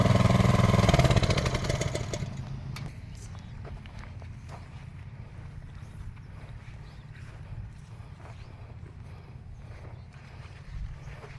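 A self-start motor vehicle engine roars briefly at the start, then settles into a steady, low idle rumble that carries on alone, fairly close, with faint clicks and knocks over it.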